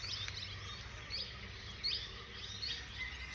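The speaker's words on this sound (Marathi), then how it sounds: "पक्ष्यांचा किलबिलाट तुम्ही अगदी सुंदररित्या आणि शांतपणे" Small birds chirp and tweet in short bright bursts at a quiet dawn in a Konkan village near Sangameshwar, with a low steady background hum and no voices.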